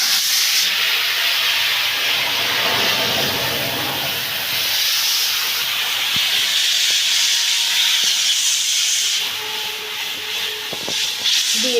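Green chili paste, with onion and tomato, sizzles in hot oil tempered with dried chili and cumin seeds, a steady loud hiss with soft scraping stirs, no voices over it.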